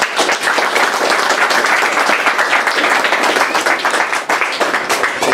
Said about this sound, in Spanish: Te hago un aplauso a Jesús.